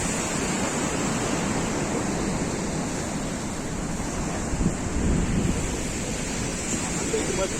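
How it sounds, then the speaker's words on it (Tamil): Steady roar of ocean surf breaking on the shore at Cuddalore beach, India, in the morning, continuous and close, with wind noise over it. "ஸோ அலை பயங்கரமாக அடிச்சிட்ருக்கு."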